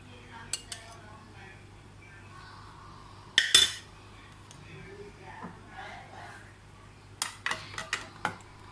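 Spoon clinking and scraping against a bowl while mixing potato and chickpea chaat with salt and crushed red chilli, in a few short bursts separated by quiet pauses, close and fairly soft.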